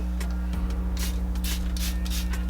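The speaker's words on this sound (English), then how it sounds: "Some setting spray." Makeup setting spray hisses onto a young girl's face in several quick, bright bursts, close and fairly loud over a steady low hum.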